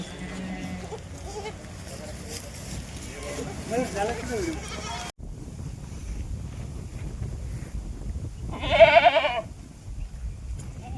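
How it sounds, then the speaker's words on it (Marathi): Kathiawari goats bleat at a goat trader's farm, with a loud close bleat near the end following a stretch of steady talking and background livestock noise. "आपण या 7 शेळ्या दिल्या आहे. 5 शेळ्या ताज्या जनलेल्या."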